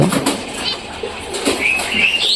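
A pigeon released onto a roof flaps its wings in a few quick bursts, close and fairly loud, followed by faint higher chirps near the end.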